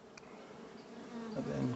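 Honey bees buzz steadily inside a long hive, a dense continuous drone that swells slightly louder toward the end, with no talk.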